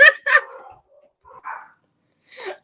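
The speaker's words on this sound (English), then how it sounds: "All of them just decided they wanted to bark at one time" Several dogs bark at once in short, sharp yips and barks, two quick bursts up front then scattered fainter barks trailing off, fairly distant and indoors-sounding.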